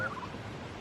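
Turkeys gobble outdoors on a farm in a single faint, short burst.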